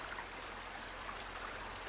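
Flowing river water on the Deluge map of the Mudrunner video game, a steady, faint rushing wash that continues without a break.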